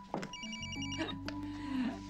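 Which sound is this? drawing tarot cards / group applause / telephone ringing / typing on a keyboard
telephone ringing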